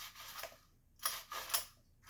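Recoil starter cord on a Craftsman string trimmer yanked several times, each pull a sharp, close rasping zip with short pauses between, no engine catching.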